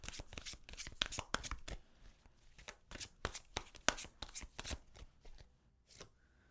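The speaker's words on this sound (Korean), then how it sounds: "그럼 마지막으로 조언 카드 2장 뽑아볼까요?" Tarot cards are riffled and shuffled in quick crisp bursts, with rapid papery flicks and taps close to the mic, followed by a few softer single card slides.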